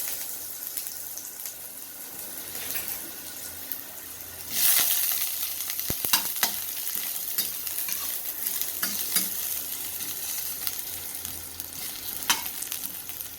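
Ginger frying in hot oil in a pan for a fish tail soup, a continuous close sizzle with occasional stirring scrapes and a brief louder burst of crackling partway through.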